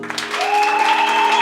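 A church congregation applauds during an opening worship service for a new building extension, a short, dense wash of clapping with a sustained voice-like tone running through it.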